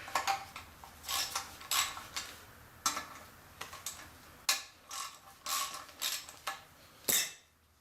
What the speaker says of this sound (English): let me take the bolts off over here